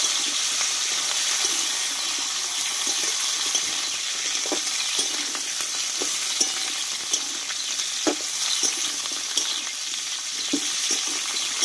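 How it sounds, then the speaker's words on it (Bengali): Drumstick pieces (sajne data) sautéing in hot oil with a bay leaf, a steady close sizzle with scattered crackles and occasional stirring knocks throughout, no voices. "ভালোভাবে তেলটা আমি এই ডাঁটাটা কষিয়ে নেব"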